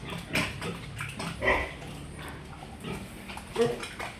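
Grunts and snorts from a sow 106 days pregnant on a pig farm, a few short bursts spread across the moment at moderate distance, with faint farmyard background.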